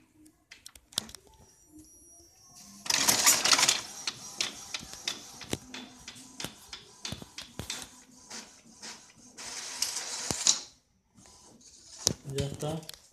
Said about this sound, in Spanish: Y empieza a trabajar también nuestra impresora.